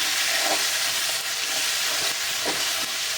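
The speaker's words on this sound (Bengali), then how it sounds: "আমার পেঁয়াজ ভাজা হয়ে গেছে আমি আদা রসুন বাটা দিয়ে দিলাম" Ginger garlic paste sizzles with fried onions in a hot pan, a steady bright hiss of frying with faint stirring scrapes at intervals, close and constant.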